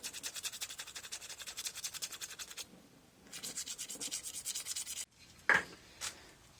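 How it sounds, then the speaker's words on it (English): Sandpaper of 150 grit rubbing over a clay chain link in repeated light strokes, a fast rhythmic scratching that pauses briefly midway and ends with a couple of sharper scrapes. "So this is just 150 grit sandpaper"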